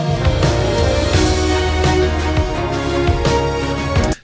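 Dense K-pop track with string instruments running through the arrangement over a thumping beat and bass, loud and continuous, cutting off abruptly at the end.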